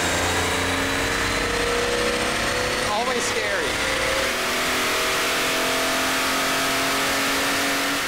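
A Datsun 280Z engine revs hard on a dyno, a loud, sustained mid-pitched roar that climbs and holds throughout, with voices faintly under it.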